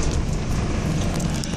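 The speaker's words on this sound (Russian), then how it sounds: "потому что пошел дождь" Rain begins falling outdoors on a London street, a dense, steady hiss of drops pattering on surfaces, close and continuous, with no voices.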